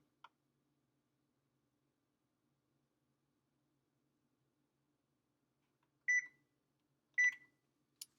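Short electronic beeps from an oven control panel being set to preheat, two clear beeps a second apart and a couple of faint clicks, in an otherwise quiet room.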